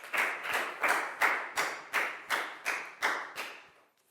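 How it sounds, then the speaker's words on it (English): A class of primary pupils applauds a classmate in a steady rhythmic burst of about ten clear claps, close and fairly loud, with no talk over it. "High five and a big round of applause for Net"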